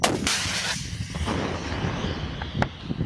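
An RPG-7 rocket-propelled grenade launcher fires with a loud sharp blast, followed by a rushing roar and a second crack near the end, heard outdoors at close range with no speech.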